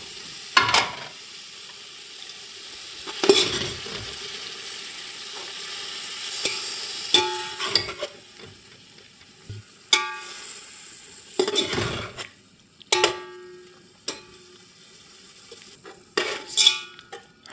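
Chopped tomatoes go into a pot of beef yakhni pulao and get stirred, with irregular scrapes and clanks of a spoon against the pan over a soft background sizzle, all near and clear.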